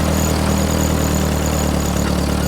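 A Ford 8N tractor engine runs at a steady idle, a continuous low throbbing drone with a faint mechanical whine on top, close and unchanging with no talk over it.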